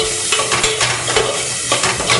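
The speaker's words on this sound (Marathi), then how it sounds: "पण थोडा मंद आचेवरला परतून घेऊया" Vegetables sautéing on a low flame with red masala, garam masala and salt, a loud, close, dense sizzle with rhythmic scraping of a spoon stirring through the pan.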